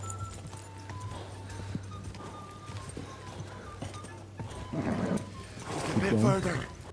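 Horse hooves gallop in the video game Kingdom Come: Deliverance 2 as a rhythmic clip-clop under game ambience, with voices speaking over them and the sound growing louder toward the end.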